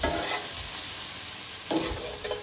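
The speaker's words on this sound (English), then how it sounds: "So we're sauteing with our broth. And then I'll start stirring this." Broccoli sautéing in broth sizzles steadily in a pan, a dense hiss broken by a few louder scrapes and bursts as it gets stirred, close and without talk.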